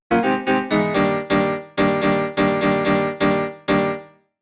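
Harmonically rich synth overtone layer from a gabber-style track, hitting about eleven bright, sharp-attack notes in a steady rhythm, each decaying quickly, loud and alone.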